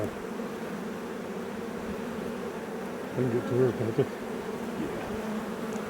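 Honey bees hum steadily and close by during a package install, a continuous droning buzz that swells briefly partway through, while people talk quietly over it.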